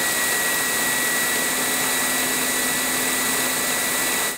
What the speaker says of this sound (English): we measured the docking station's self-emptying noise levels